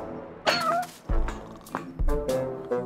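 A cat meows several times in the video game Lost in Play, the cries coming in short separate bursts, close and clear, with no talking over them.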